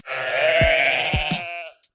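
A sheep bleats close and loud in one long wavering call, followed by a few short grunting breaths and a faint click at the end.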